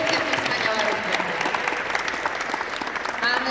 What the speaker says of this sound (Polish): Jeszcze raz bardzo, bardzo gorące brawa, bo to jest rozgrzewka